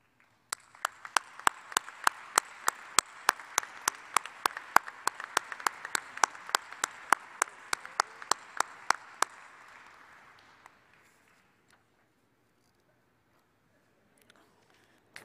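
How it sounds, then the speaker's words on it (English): Sparse, widely spaced claps ring out in a large ceremony hall for senior design winners, each one a sharp crack over a soft bed of light clapping that thins out and stops about two-thirds through, leaving near silence. "Please join me in congratulating all of the winners with a round of applause."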